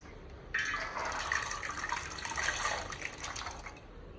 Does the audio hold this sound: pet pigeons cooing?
no